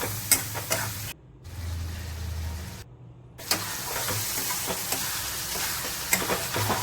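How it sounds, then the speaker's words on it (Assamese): Spices such as coriander and cumin powder stirred in a frying pan for egg curry, a steady close scraping and sizzling with two brief cutouts, no voices. "এইখিনি দি এতিয়া ভালদৰে লৰাই দিছোঁ"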